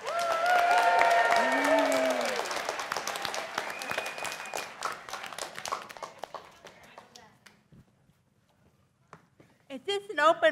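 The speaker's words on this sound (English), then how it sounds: "Let's give a round of applause to Jeremiah Kaufman." Audience applause at a Spotlight Musical Theater show swells over loud voices and cheering, then thins out and fades to near quiet before a few last claps.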